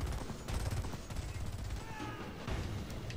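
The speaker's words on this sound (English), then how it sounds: "Good, you're not shooting blanks." Gunfire in the video game Homefront, a series of quick shots and bursts over a low rumbling game backdrop, fairly faint in the mix with no one speaking.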